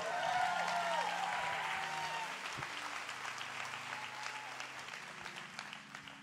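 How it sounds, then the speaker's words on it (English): A church congregation applauds in a broad, steady wash of clapping that gradually fades, with soft sustained music tones underneath. "Let's give Jesus another round of applause."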